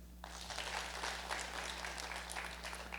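A live audience at a WE Speak event in Orange County breaks into clapping that starts abruptly and holds as a dense, even wash of hands, with a low steady hum running underneath.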